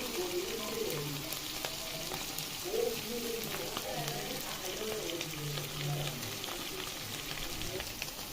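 Boiled potatoes and chopped onion frying in a pan, a steady dense sizzle running throughout with occasional stirring scrapes, close and moderately loud, with no talking over it.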